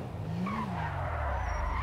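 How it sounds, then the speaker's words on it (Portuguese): Car handbrake spin in GTA V, with tires skidding and squealing in one continuous screech over a low engine drone, loud and close, and no voices. "vou dar um cavalinho de pau aqui"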